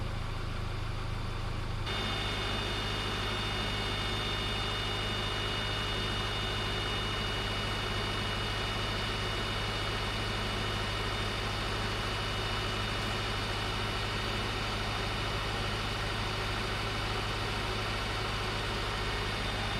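A Subaru car engine idles with the air conditioning system being charged, a steady low hum with a constant tonal whine that continues unchanged throughout, close and even.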